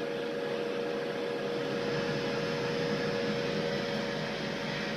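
A Philips air fryer runs with a steady, loud fan-like whir and hum, constant throughout with no talk.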